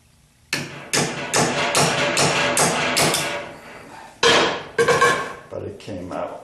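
A hammer strikes a 1976 Corvette spindle to drive it out, giving a run of sharp metallic taps in quick succession followed by a few heavier, louder blows, close and ringing.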